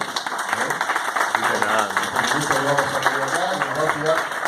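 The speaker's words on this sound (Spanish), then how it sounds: "Vamos a dar un aplauso al señor" An audience applauds a speaker at a renewable energy presentation in Argentina, giving dense clapping throughout while a voice talks over it.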